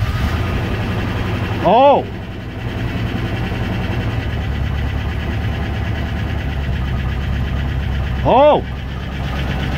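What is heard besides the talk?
1994 Range Rover engine starting and running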